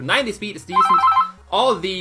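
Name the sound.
telephone ringing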